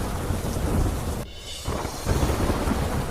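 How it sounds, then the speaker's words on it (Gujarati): Heavy monsoon downpour in South Gujarat roars as a dense, steady wash with thunder rumbling underneath, briefly thinning for a moment before surging back at full strength, with no voices. "દક્ષિણ ગુજરાતમાં ધોધમાર વરસાદથી જળબંબાકાર."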